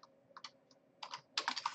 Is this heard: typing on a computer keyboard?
yes